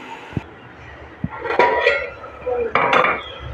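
A metal lid clanks and scrapes onto a pan of fenugreek and spinach cooking on the stove, a few close clinks and rattles over a quiet background, with faint talk.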